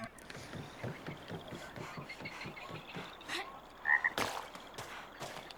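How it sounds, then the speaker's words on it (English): Frogs croak in a rhythmic, close chorus of low pulses in the video game Caravan SandWitch, with a brief brighter chirp and a few clicks partway through. "Do they have actual regular frogs around here somewhere?"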